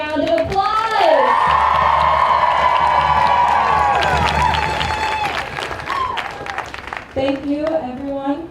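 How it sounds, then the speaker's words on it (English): Crowd at a climate strike rally for a Green New Deal in Asheville bursts into loud applause and cheering with shouts, swelling and then fading as a voice over a loudspeaker resumes talking. "Let's give her a massive round of applause!"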